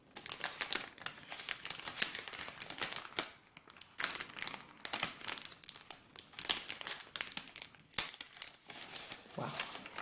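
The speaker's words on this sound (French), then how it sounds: "Essayez de ne pas trop faire de bruit avec les papiers." Paper packaging being unwrapped up close, continuous crinkling and rustling with sharp crackles and a few brief pauses, no talking.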